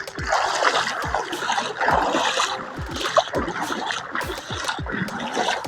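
Footsteps wading through floodwater on a road after heavy rain, a river having overflowed; repeated splashy sloshes at a walking rhythm, close by, with a voice speaking over them.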